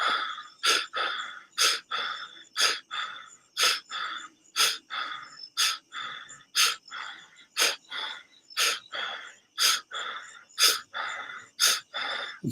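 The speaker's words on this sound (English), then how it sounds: "Causing the inhale and allowing the exhale." Slow, deep human breathing repeats in a steady cycle, each breath a loud, airy rush followed by a short pause, about thirteen breaths close to the mic with no talking.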